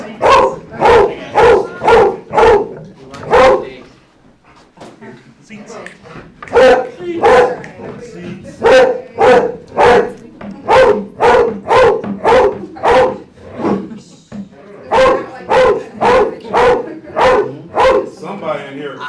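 A dog barks in quick repeated bursts, loud and close, indoors at a county board meeting, with people talking around and between the barks.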